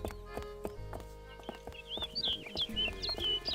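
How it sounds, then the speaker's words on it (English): Footsteps in a LucasArts video game: a quick, regular run of hollow, clip-clop-like footfalls over steady background music, followed by bright chirping calls near the end. "I hear footsteps."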